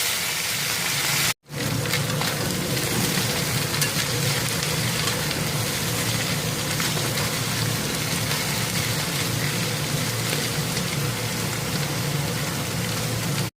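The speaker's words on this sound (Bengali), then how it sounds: "মাছগুলো ভেজে নেবো।" Fish frying in hot oil makes a loud, unbroken sizzle that runs for the whole stretch, interrupted only by one brief dropout near the start, with no voices.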